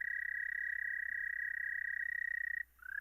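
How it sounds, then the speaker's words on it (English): A toad gives a long, steady, high trill call, a sustained pulsing buzz that pauses briefly and then starts again, clear and close with nothing else audible. "So they usually start out with that nice soft trill,"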